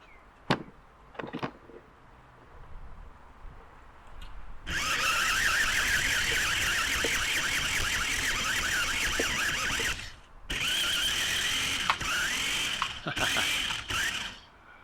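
A Maisto Extreme Beast RC car's electric motor whines loudly as its wheels spin on grass, in long high-pitched bursts with a short pause between, after a few quiet clicks.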